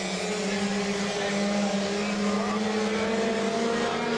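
A pure stock race car at Monadnock Speedway powers into a corner, its engine a loud, steady, droning roar with a sustained tone that fills the whole stretch without letup.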